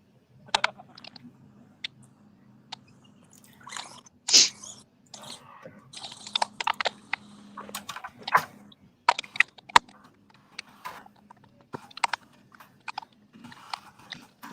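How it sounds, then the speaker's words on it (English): Quiet, irregular clicking and tapping of keys on a keyboard, in short bursts with pauses, fairly faint and near. "We can hear you typing."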